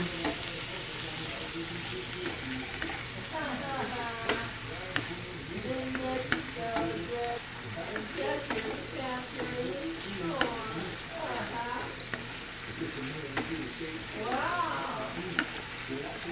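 Vegetables stir-fry in a pan, sizzling continuously up close while a person talks over the cooking throughout.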